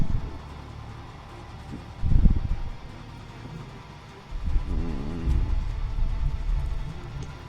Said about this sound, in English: I don't know if you can hear the lightning storm outside.